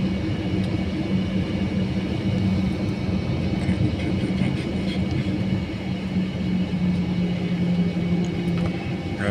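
American Airlines Airbus A321-200 departing Charlotte, heard from the cabin as a steady loud engine roar and low hum during the takeoff roll, continuous with no talking.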